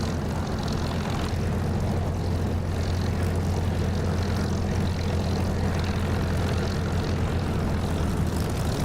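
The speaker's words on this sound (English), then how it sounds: "So brake off, throttle up, then add some brake with left rudder to turn left." Propeller aircraft engine in the DCS flight simulator video game throttled up for takeoff, a loud steady droning roar with a strong low hum that holds constant throughout.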